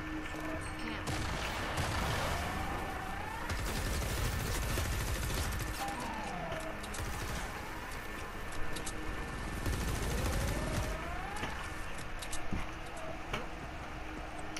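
The Nocturno weapon fires continuously in Fortnite Save the World, a dense, unbroken crackle of rapid shots. It sits at moderate loudness over a busy game soundscape with faint, swooping tonal effects.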